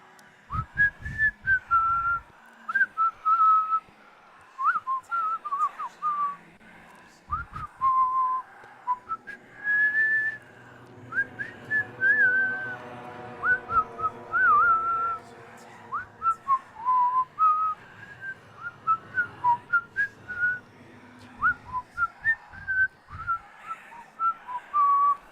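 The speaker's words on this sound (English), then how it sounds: "I can kind of whistle as well." A person whistles a wandering, breathy tune in short phrases with brief pauses between them. The whistling is close and fairly loud and carries on for the whole stretch.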